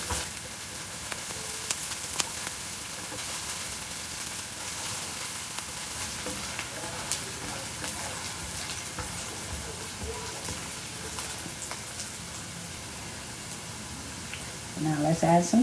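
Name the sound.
onions sautéing in olive oil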